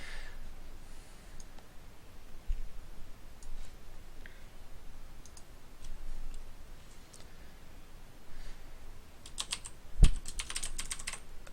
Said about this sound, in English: I haven't got the hang of this talking and typing at the same time.